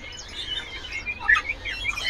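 An AF canary, a ringed breeder bird, chirps in quick bright bursts of varied notes close by, with no voices.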